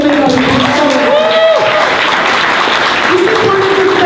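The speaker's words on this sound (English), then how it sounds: "So please give these folks a round of applause." An audience at a charity auction and closing ceremony breaks into loud, sustained applause, while voices talk and call out over the clapping.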